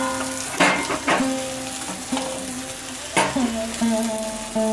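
Cumin powder and ginger paste hitting hot oil in a pan for a fig and poppy seed dish, sizzling steadily with several sharp bursts as each goes in, close by.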